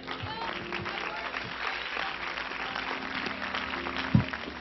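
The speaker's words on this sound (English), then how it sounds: "just clap your hands to the Lord" A church congregation claps during an apostolic preaching service. The applause is dense and sustained with a mix of voices, and one sharp thump stands out near the end.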